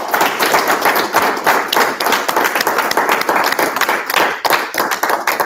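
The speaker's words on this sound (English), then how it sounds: "So let's give it a nice round of applause." An audience at a court-procedure gathering breaks into a loud, dense round of applause, sustained clapping from many hands filling the whole stretch close up.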